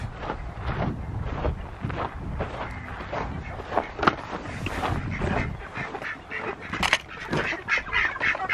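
Ducks quack repeatedly and close by on the grass at feeding time near a waterer, with a busy, overlapping chorus of calls and honks that continues throughout.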